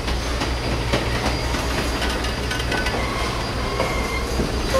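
An SP Daylight 4449 steam locomotive backs up, rumbling steadily at close range, wheels clicking and faintly squealing on the rails under a continuous low mechanical drone.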